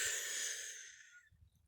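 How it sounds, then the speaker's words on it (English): A slow, steady outward breath during a children's calming breathing exercise, a soft airy rush that gradually fades over about a second, followed by faint low rustling. "And let it out nice and slowly"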